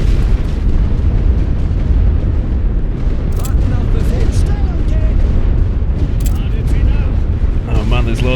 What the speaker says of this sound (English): Their artillery is coming down now.